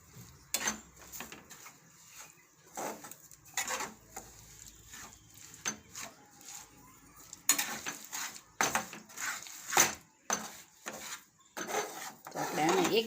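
Halwasan mixture stirred in a pan on a gas stove, repeated scraping and knocking strokes of a spoon against the pan, soft and intermittent, becoming denser and more rapid in the second half.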